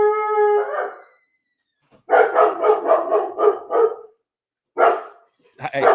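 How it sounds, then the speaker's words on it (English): A dog barks close and loud in a rapid run of about six barks, then pauses and gives a few more; a brief voice-like tone comes just before. "Every time he sees my son, he barks at him,"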